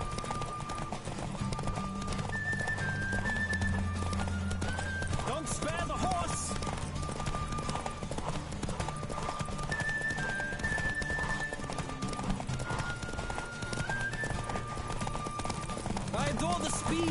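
Horse hooves clip-clop in a rapid gallop in The Witcher III, steady and continuous with occasional whinnies, under someone talking.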